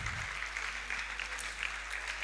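Applause from an audience at a Cape Verdean music event, a steady dense patter of clapping heard alone at moderate distance throughout.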